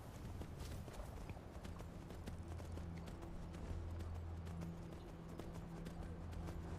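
Horse hooves clip-clop at a steady gallop in the Skyrim video game, a continuous rhythmic drumming that runs the whole stretch at an even, moderate level over faint game ambience.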